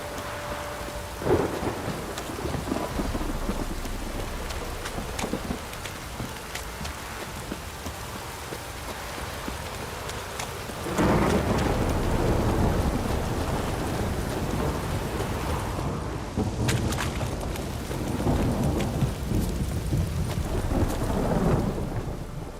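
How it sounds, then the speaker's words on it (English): Heavy rain pours steadily with rolling thunder in The Witcher 3: Wild Hunt, the downpour intensifying midway and staying loud and dense, with no voices. "This downpour's a bastard, it is."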